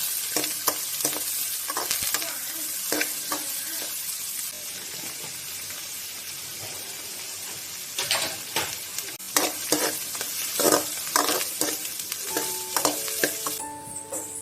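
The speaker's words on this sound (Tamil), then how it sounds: "இப்போ இதை நல்லா வதக்கிக்கலாம்" Onion, garlic and curry leaves sauté in a hot pan for a spinach and lentil kootu, with a steady close sizzle of frying and the scrape of stirring throughout. Louder bursts of clatter come in the second half, and no one speaks.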